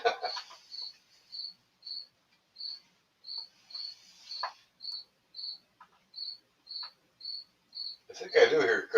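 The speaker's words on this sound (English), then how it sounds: "I think I do hear crickets." Crickets chirp in short, evenly spaced bursts, about a dozen in steady rhythm against otherwise quiet surroundings, with a faint rustle and a louder noise at the very end.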